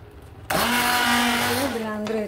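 A kitchen blender switches on abruptly and whirs loudly while pureeing cooked vegetables for gluten-free buckwheat tarhana, its motor pitch shifting slightly as the mixture churns, running continuously to the end.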